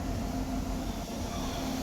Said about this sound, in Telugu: ఇప్పుడే ట్రైన్ వచ్చింది